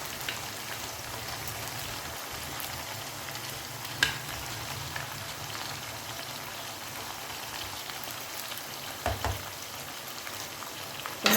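Two large tomatoes added to a nawabi qorma pan and frying, a steady dense sizzle and crackle running throughout, with a few brief clatters of stirring, close and moderately loud, no talk.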